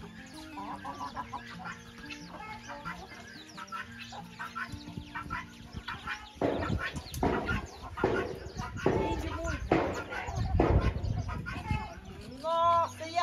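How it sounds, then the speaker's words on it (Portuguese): Farm chickens and a young cockerel cluck and squawk nearby in an agitated, irregular chorus, growing louder midway, while people talk over them. "Olha as galinhas com medo da minha mãe."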